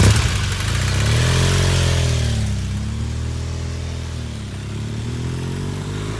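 A motorcycle rides at about 20 mph, its engine a steady, close drone that shifts pitch slightly, with wind rush early on and no voices.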